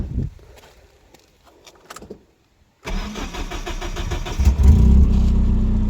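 A Mitsubishi Galant Sigma with a carburetor engine and five-speed gearbox: a few soft clicks and quiet, then the starter cranks and the engine catches, settling into a loud, steady, slightly rising idle up close.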